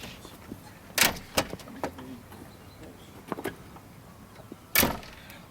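A driver climbs down from an HGV lorry cab, with a few sharp thumps and clunks from the cab door and steps, the loudest near the end, over quiet outdoor background.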